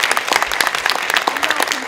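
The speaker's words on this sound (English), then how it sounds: "we'd like to give her a round of applause" An audience at a socialist conference claps steadily, a dense patter of many hands applauding together without pause for a couple of seconds.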